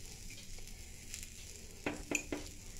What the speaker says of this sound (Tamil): பச்சை மிளகாய் போட்டு கீழே டோஸ்ட் ஆகிக்கிட்டு இருக்குது லைட்டாக